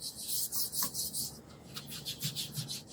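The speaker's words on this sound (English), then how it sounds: "We're just going to be sanding lightly with some 240 grit aluminium oxide paper." Light hand sanding of an old World War II Baltic pine ammunition chest with 240 grit aluminium oxide paper, heard as a series of rhythmic, close, raspy strokes with a brief pause midway.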